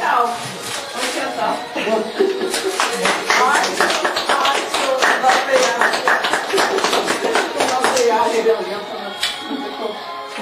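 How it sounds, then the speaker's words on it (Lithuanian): Classmates gathered at a reunion after 59 years break into dense, sustained applause of many hands, rising after a short start and rolling on for several seconds, with voices and light laughter mixed in. "Audrinį plojimai."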